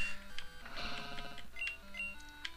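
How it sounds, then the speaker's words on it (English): A short chiptune healing jingle from Pokemon Crystal plays as Miltank recovers, a quick sequence of bright beeping notes stepping in pitch, faint and steady with no talking over it. "You could hear the little jingle in the background."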